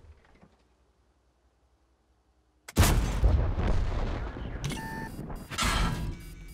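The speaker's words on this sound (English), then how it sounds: "I hear the, the Jagdtiger shooting at me. I'm about to have double Artie." After a near-silent start, a heavy boom hits as a Jagdtiger tank and artillery fire in World of Tanks, followed by rumbling, crackling impacts and a second loud burst.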